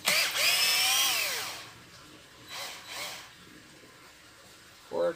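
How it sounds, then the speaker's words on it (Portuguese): A power drill bores a hole through a tire being cut up to make a swing, with a rising whine that bends up and down for about a second and a half, then two shorter bursts and a brief final spin. "Agora vamos furar aqui para nós bater o de porca, né?"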